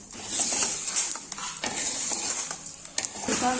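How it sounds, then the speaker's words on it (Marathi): A spoon scrapes and clinks in a pan, lifting out fenugreek seeds roasted in oil for a Maharashtrian-style mango pickle, with a soft sizzle under repeated close scraping strokes. "आता आपण इथे मेथीचे बी घेतलेले आहेत आणि ते मस्तपैकी तेलात भाजून घेतलेत लोणच्यासाठी आता ते आपण काढून घेऊया"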